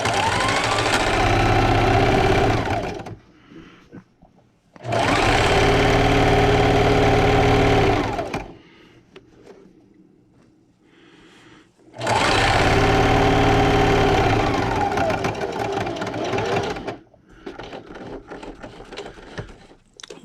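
Sewing machine stitching a quarter-inch seam around a patriotic table runner, running in three loud, steady bursts with short quiet pauses between them.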